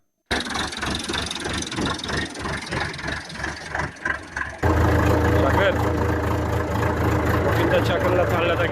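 Tractor engine running on snow with a Siberian husky at the wheel: a pulsing mid-range engine chug that gives way to a louder, steady low rumble, with voices faintly over it.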